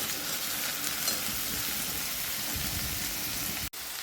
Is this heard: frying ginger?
yes